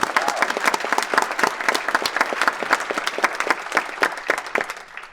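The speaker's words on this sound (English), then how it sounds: "So give us all a big round of applause again." A round of applause from the audience at a House of Delegates opening ceremony, loud and close with crisp individual claps blending into a full crowd ovation that carries on without pause.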